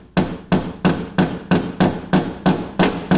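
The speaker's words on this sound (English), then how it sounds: "So I brought my ball peen hammer, as John would say" Ball peen hammer tapping metal insulation retainers on the inner firewall of a 1965 Thunderbird convertible, ten sharp evenly spaced metallic strikes in a steady rhythm, close and loud with no talk.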